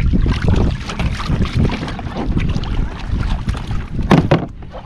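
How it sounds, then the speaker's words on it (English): A Bixpy Jet electric motor drives an inexpensive Intex Challenger K1 kayak at full speed, heard as a steady churning rush of water and strong wind noise with a few sharper splashes toward the end. "Hit the motor at maximum speed."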